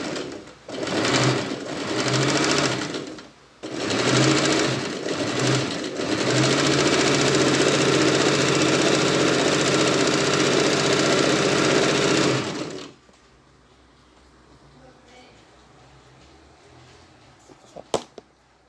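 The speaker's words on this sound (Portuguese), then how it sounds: "e vamos costurar" A home sewing machine runs a long straight stitch at setting 4, starting with a few short stuttering bursts and then settling into a steady, loud whir for several seconds before stopping. No one speaks.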